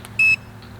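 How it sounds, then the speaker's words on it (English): A Hubsan Zino 2 drone gives one short, high electronic beep, loud and clean, then goes quiet apart from a faint low hum. "somebody told me that you could stop that beeping with the function button"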